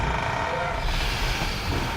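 Freight train in the Wild West video game Call of Juarez Gunslinger, a continuous loud rumbling roll of rail cars with a faint high tone, steady for the short stretch with no talk.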